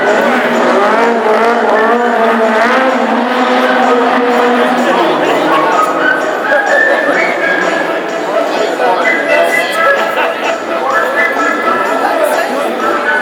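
Loud roaring engines of classic hot rod cars racing past at Wimbledon, with revving and shifting pitches, under an excited commentator's voice and a crowd in the background.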